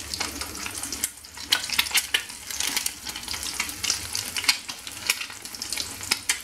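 Dough frying in a pan with just a little oil, a steady crackling sizzle with sharp spitting pops and occasional stirring scrapes, close and continuous with no talking.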